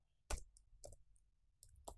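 A computer keyboard being typed on while entering a terminal command during a Linode web server setup, giving a few distinct, close clicks spaced irregularly with quiet gaps between keystrokes.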